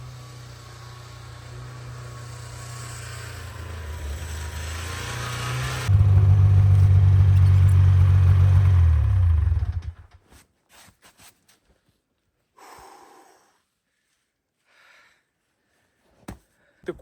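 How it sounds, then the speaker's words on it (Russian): A snowmobile engine drones under heavy strain while towing a 6-metre load through snow, the low roar rising louder midway, then cutting off abruptly, leaving scattered faint knocks and rustles in near silence. "Снегоход буксует по своему путику по буранке."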